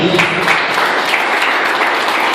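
A church congregation at a Venezuelan apostolic youth service breaks into loud, dense applause, a steady wash of many hands clapping together throughout, close and sustained with no voices standing out.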